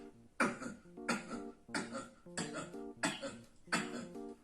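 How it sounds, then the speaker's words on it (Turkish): Someone coughs repeatedly, six short bursts at a steady rhythm about every half second to second, close and moderately loud. "öksürük çalışması"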